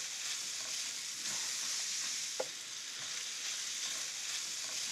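Diced mushrooms and scallions frying in a pan for a quail stuffing, giving a steady, even sizzle with faint crackles and one brief clink partway through, no talking.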